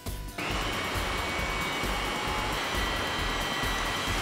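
A pneumatic fastener installation tool from a truck frame repair kit cycles with a short initial burst, then a steady loud hissing air rush that holds constant to the end, with no voices.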